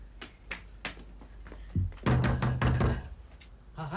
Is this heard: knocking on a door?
yes